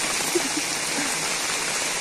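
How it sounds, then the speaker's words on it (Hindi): Heavy rain falling at a hostel, a dense steady hiss of drops on surfaces, continuous and moderately loud, with a few faint tonal bumps early on. "काफी तेज बारिश हो रही है।"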